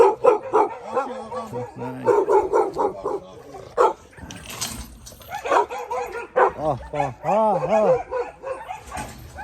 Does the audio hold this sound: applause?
no